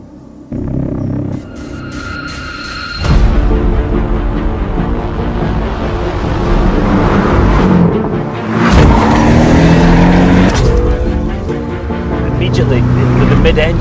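A 2018 Porsche 718 GTS mid-engine sports car roars and revs hard, rising in pitch as it accelerates, loud and close, with a brief drop before surging again.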